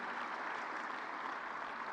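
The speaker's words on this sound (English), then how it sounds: "Don't you think we should give them a louder clap?" Steady audience applause for student performers at a live foundational learning event, a dense even wash of many hands clapping with no break across the two seconds.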